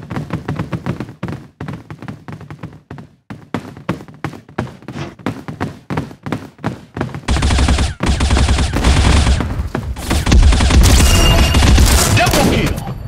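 A newly equipped weapon in the mobile shooter Bullet Angel fires rapid, evenly spaced shots, loud and punchy, briefly pausing before the shooting resumes and then merging into a dense, continuous barrage of gunfire and explosions.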